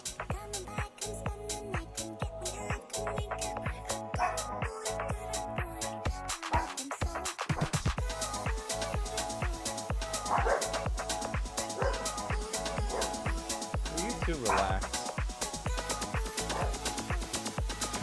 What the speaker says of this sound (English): God bless the dogs